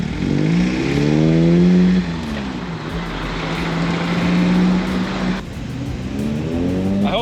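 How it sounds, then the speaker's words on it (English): Car exhaust fitted with Hooker headers and an HKS Sport axle-back system revving up close: a loud rising rev that drops back to a rumbling idle, then a second longer rise and fall. "I hope that the sound of this exhaust carries over on camera."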